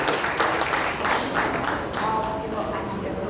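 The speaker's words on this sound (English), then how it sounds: "I think we need to give him a round of applause" An audience applauds at a film panel discussion for IKKIS, a dense wash of clapping that starts strong and slowly thins, with voices talking over it.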